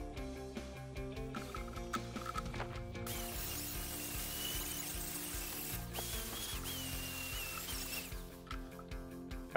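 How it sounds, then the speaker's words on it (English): A power tool fitted with a 40 grit flap disc grinds a bevel along the edge of a thin golf club blade, a loud, continuous harsh whine with rattling, steady throughout and easing near the end, with no talk. "I switched to a 40 grit flap disc, and I used this to bevel the edges and make them sharp"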